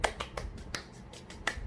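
Sharp, light claps or snaps mark an irregular beat, about seven quick percussive hits in under two seconds, close and fairly faint with no voices.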